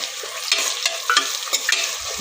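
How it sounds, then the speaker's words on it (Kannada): Onions frying in a pan with kasuri methi and green chillies, a steady sizzle with intermittent scraping and stirring clatter from a utensil, close and fairly loud, no talking. "ಈರುಳ್ಳಿ ಚೆನ್ನಾಗಿ ಫ್ರೈ ಆಗಬೇಕು"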